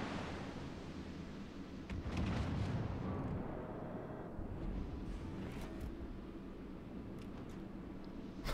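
A warship detonating in World of Warships: Legends, heard as a broad, rumbling blast with roaring surf-like noise that swells around two seconds and keeps churning at steady loudness throughout.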